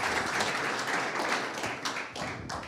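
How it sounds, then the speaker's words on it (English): An audience at a beer-industry conference session gives a round of applause for a presenter, a dense wash of clapping already under way that thins toward the end. "Round of applause for Tim."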